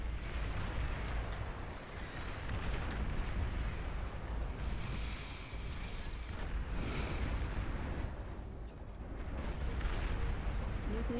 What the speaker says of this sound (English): Long-range plasma cannon targeting your units.